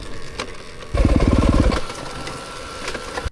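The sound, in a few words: Yamaha YZ300FX dirt bike with big bore kit idling unstably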